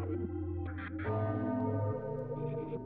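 Bell rings out in the occult adventure video game Zelle, a few resonant sustained tones with overlapping ringing decay, fairly faint and alone.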